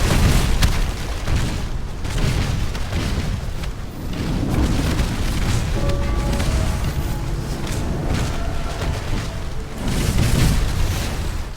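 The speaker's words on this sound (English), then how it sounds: "I love the meatiness of the cannons as the fire" Ship cannons firing in the naval video game Maelstrom, heavy booming blasts rolling together into a dense, rumbling barrage with a few brief tonal effects over it, no voices.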